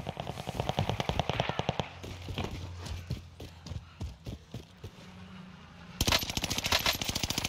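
MP40 submachine gun fire in a video game, heard as rapid rattling bursts of shots near and loud, a pause with scattered single shots, then another fierce burst, with no talking.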